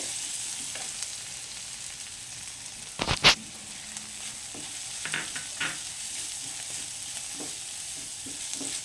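Pasta with garam masala and other spices sizzles in a frying pan, a constant close hiss broken by a few sharp clanks and scrapes of a spoon stirring, plus lighter taps later.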